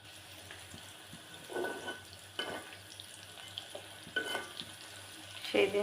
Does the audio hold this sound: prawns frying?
yes